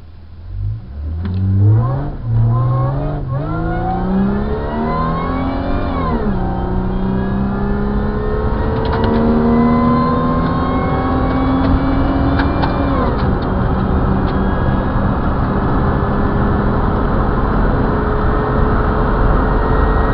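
A Honda Civic race car with individual throttle body trumpets screams up through its gears at the Snowy Mountains 1000, rising in pitch with sharp shift drops, then settles into a loud, sustained high-revving howl.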